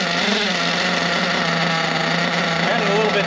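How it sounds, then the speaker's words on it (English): A small nitro model engine fires on its first start and keeps running, a loud, continuous buzzy drone close by with no break. "now we'll try and fire it the first time."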